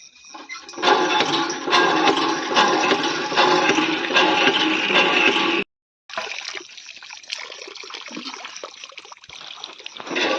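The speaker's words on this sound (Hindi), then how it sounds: "मैं पानी भरने लगी हूँ नल से" Water gushes hard and steady from a tap into a container outdoors after dark, a loud continuous rushing that stops abruptly for a moment, then resumes with a lighter splashing trickle.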